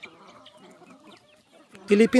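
Pet hens in a backyard coop cluck in a short loud burst at the end, after a stretch of faint, quiet background sound.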